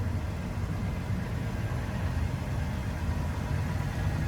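A 2017 Toyota Tacoma pickup's 3.5-liter naturally aspirated V6 engine idles with a steady, low rumble that stays even throughout, with no voices and no change in pitch.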